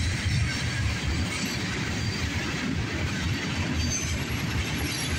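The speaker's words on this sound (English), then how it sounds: "We got a good mixed freight train here" A CSX mixed freight train rolls past steadily and close, a continuous loud rumble with faint clickety-clack of wheels and some rail squeal, with no pauses across the stretch.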